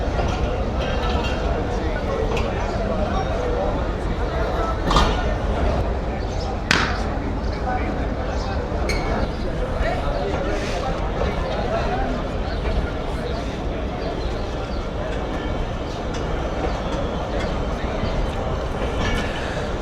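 Khushhal Khan Khatak Express passenger train on its inaugural run, its coaches in new green livery, rolling past as a steady loud rumble with faint wheel clatter and a few sharp clanks, voices speaking over it.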